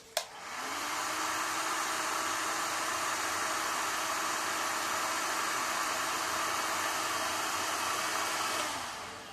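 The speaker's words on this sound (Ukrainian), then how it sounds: "беру фен і підігріваю трошки датчик" A hair dryer, heating a recirculation pump's temperature sensor, switches on with a click and blows steadily with a loud, even whoosh for several seconds before shutting off.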